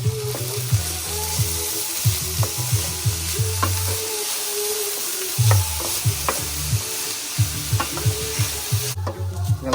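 Red onions, green onion, celery and garlic sizzle in a hot pot while a spoon stirs them, giving repeated scraping strokes and clacks over a continuous close frying hiss.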